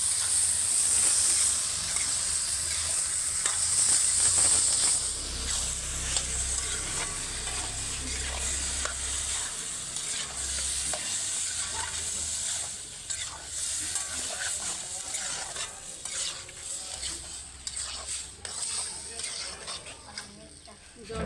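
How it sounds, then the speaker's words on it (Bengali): Lentils sautéing and being stirred in a hot pan without water, a steady sizzle and scraping under a voice talking throughout. "চুলার ডালগুলো ঢেলে দিচ্ছি। এখন জল দেবে না, একটু কষিয়ে নিই।"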